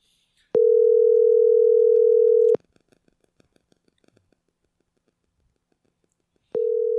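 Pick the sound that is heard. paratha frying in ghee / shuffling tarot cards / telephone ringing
telephone ringing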